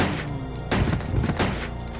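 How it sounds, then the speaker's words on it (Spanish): Gunshots in the PS2 zombie game Resident Evil Code Veronica X, a rapid run of loud, punchy blasts firing in quick succession with heavy low-end booms and no talking over them. "Recarga y date tiros"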